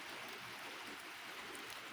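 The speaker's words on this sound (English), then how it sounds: "It's raining outside right now." Rain falls steadily outdoors, a soft, even hiss with no distinct drops standing out, faint and continuous across the whole moment.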